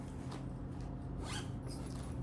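A zipper on a Harry Potter project bag, fitted with a handmade zipper pull, is drawn in a few quick rasping strokes close by, over a steady low hum.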